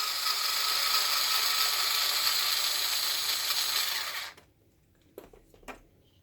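A ratcheting driver backs screws out of a Traxxas Unlimited Desert Racer and clicks rapidly and continuously for about four seconds. It stops abruptly, and a few faint knocks of handling follow.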